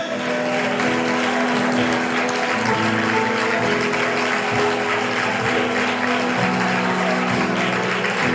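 Children clap their hands together in a church, a steady, dense patter of applause with no breaks and a faint sustained tone underneath.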